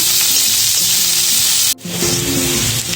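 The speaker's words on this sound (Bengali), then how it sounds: "এখন আমি এগুলোকে ভালোভাবে ভেজে নিব" Chopped onion and green chili frying in oil left over from frying pointed gourd, giving a steady close sizzle that cuts out briefly partway, then resumes with stirring scrapes.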